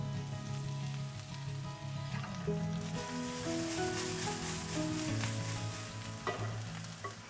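Green onions, garlic and dried chilies sauté in chili oil for a tomato ramen stir fry, a loud, dense sizzle running throughout with occasional spatula scrapes and a low hum underneath.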